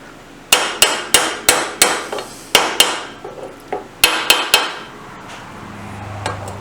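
A hammer drives a drift into a BSA B50T motorcycle engine casing, giving about a dozen sharp, ringing metallic strikes at a steady pace in two close bursts, loud and near, with no talk.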